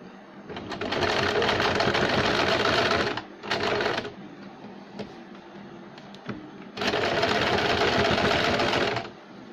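Sewing machine stitching a sleeve, running in two long bursts of rapid, steady whirring with a short run and a few taps in between, close by.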